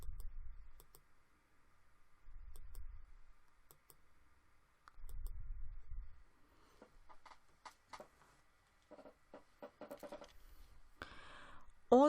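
Computer mouse clicks while selecting polygons in ArcGIS come as sharp, isolated ticks, some in quick pairs, over a quiet background with occasional low thumps and a denser cluster of clicks toward the end.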